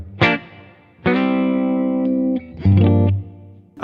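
Clean electric guitar through a Fractal AX8, played direct into speakers with reverb: a picked note, then a sustained chord ringing for over a second, then another strummed chord, heard alone.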